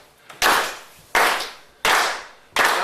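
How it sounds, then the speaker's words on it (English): A group claps hands together in unison, four sharp, loud claps at an even, steady pace. "we're just going to start by clapping our hands together and get a beat"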